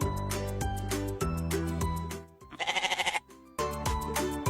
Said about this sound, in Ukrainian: кози,